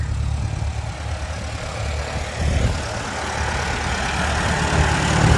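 A vintage Farmall tractor engine runs steadily with a low, rumbling drone that swells slightly in loudness, close by and without talk.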